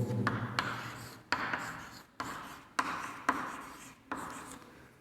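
Pen writing on paper during a math lesson on dice probability, a series of short scratchy strokes in bursts with brief pauses between, close and fairly quiet, no talking.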